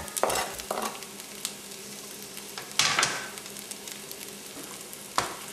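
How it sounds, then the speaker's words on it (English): Garlic added to olive oil in a pan over medium heat, a close steady sizzle with bursts of louder crackling and stirring scrapes as it hits the hot oil, no talk. "I have 2 teaspoons of olive oil already over medium heat. And we're going to let these simmer for about 8 minutes. I'm going to add my garlic here."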